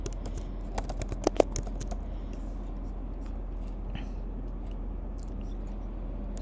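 Clicking on a computer keyboard as a function is typed into Wolfram Language, with a quick burst of close, crisp keystrokes early on, then sparser taps over a steady low hum.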